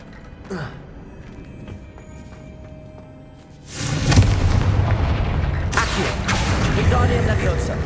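After a quiet stretch, the Confringo fire spell in Hogwarts Legacy on PS5 Pro bursts into a heavy, booming explosion, followed by rumbling debris and a second crack of blast noise.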